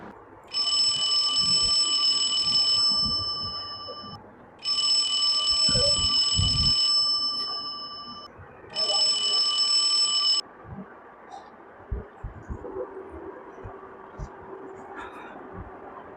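An alarm clock rings in three long electronic bursts, loud and steady with short gaps between them, followed by quieter background noise and faint voices.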